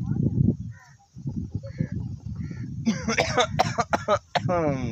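A person coughs and clears their throat several times close up in a sugarcane field, with some voices talking around it and a brief whistling sound near the end.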